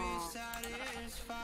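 Sheep bleating in the video game Minecraft, a steady, wavering tonal bleat that fills most of the short moment, fairly close and alone with no talk over it.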